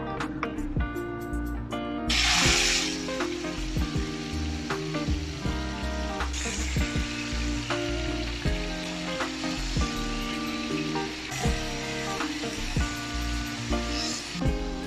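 Chicken shashlik kebab pieces fry in a little oil in a frying pan over a stove, with a continuous near sizzle and occasional clinks and louder spattering bursts.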